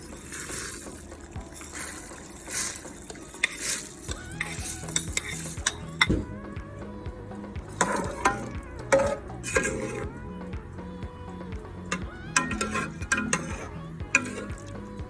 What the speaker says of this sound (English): I'm going to add the rice now.